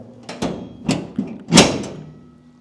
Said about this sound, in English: I'll show you how this hood closes up.